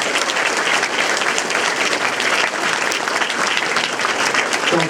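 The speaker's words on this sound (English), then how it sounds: "how about another big round of applause for our mayoral candidates?" Dense, steady applause fills the room for the mayoral candidates at a 2015 Quincy primary debate, loud and continuous throughout with no break.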